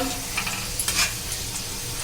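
Capsicum chops coated in breadcrumbs deep-frying in hot oil give a steady close sizzle, with a few brief clinks and stirring noises near the middle, and no talk.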